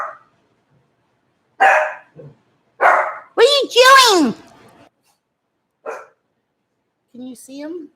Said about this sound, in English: You're barking at nothing.